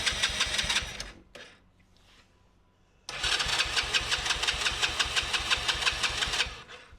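A four-wheeler's engine runs with the choke on, a loud, close, rhythmic chug that dies away after a second, then catches again and settles into a steady, throbbing idle before fading at the end.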